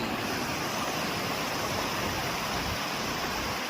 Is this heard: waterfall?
yes